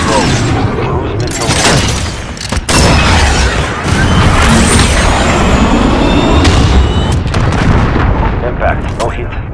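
Heavy booming blasts and rumbling impacts from rocket strikes in a military shooter game, loud and dense across the whole stretch, with radio-style voice callouts layered over the battle noise.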